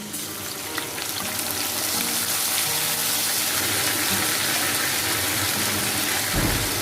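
Ground ginger paste frying in a pan for fish curry sizzles with a loud, steady hiss, a dense crackling wash that holds without a break, with a soft thud near the end.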